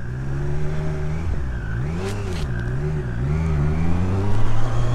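A 2022 Triumph Street Triple RS, a 765 cc motorcycle, revs and accelerates up close, its engine pitch rising and falling through throttle blips, then settling into a steady drone with no talk.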